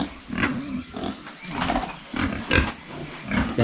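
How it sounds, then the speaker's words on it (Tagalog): Pigs on a farm grunt in several close, rough bursts, one after another, with no talk over them. "Yan po yung mga baboy natin."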